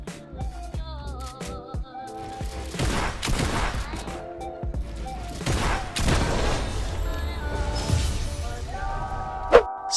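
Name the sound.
gunfire in the Fortnite video game, winning kill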